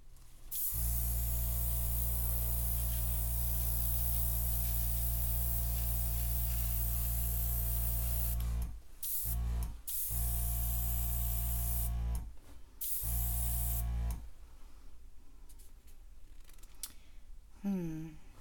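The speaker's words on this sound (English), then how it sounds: "But I have to play with the airbrush." Airbrush spraying paint over an acrylic pour, a close, steady loud hiss with a low hum that stops and restarts in several short breaks before trailing off near the end.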